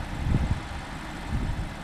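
A BMW 650i E64 convertible's engine runs at idle, a steady low rumble with slight pulsing, close and moderately loud with no one talking.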